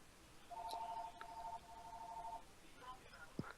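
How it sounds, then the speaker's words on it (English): A phone rings in the Sonic the Hedgehog OVA anime, a sustained two-tone electronic trill that runs for about two seconds over faint background noise, then a short blip follows. "there's the phone going off"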